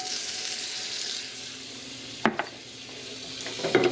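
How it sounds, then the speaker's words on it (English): Two tablespoons of butter sizzle steadily in a warm pan while making Mexican esquite, a soft continuous frying hiss with a few sharp utensil clicks near the end. "I'm gonna be adding the 2 tablespoons of butter"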